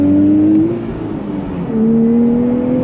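A 2024 Nissan Fairlady Z sports car accelerating on throttle from inside the cabin, its engine note rising steadily, dipping briefly at a gear change around mid-clip, then climbing again loudly with no talking.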